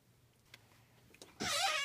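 A closet door in a bedroom creaks open after a few soft rustles and taps, ending in a sudden, loud, sustained high squeal that runs to the end.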